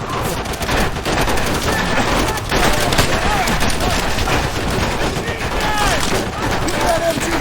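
Sustained machine gun fire and scattered rifle shots in the World War II shooter Call of Duty: World at War, loud and relentless throughout, with shouted voices mixed into the battle.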